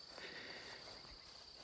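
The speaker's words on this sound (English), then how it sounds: "just like crickets, bugs, frogs, birds" Crickets and other insects chirp outdoors in a steady, faint high trill that continues throughout the brief stretch.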